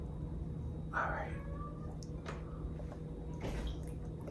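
A cat named Cookie cries at the door to be let in, with two or three faint, muffled meows in a steady background hum.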